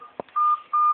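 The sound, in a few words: child pressing telephone buttons, dialing tones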